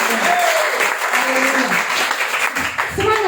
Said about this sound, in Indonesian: berikan tepuk sorak-sorai bagi kemuliaan Tuhan